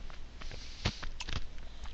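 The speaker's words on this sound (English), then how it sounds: "I apologize for my ice chewing there" Ice cubes being chewed give a few faint, sharp crunches close to the mouth, alone with no talk.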